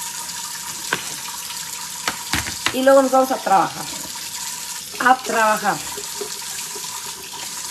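Tap water runs steadily into a kitchen sink while a blender is washed, a constant close hiss beneath someone speaking Spanish.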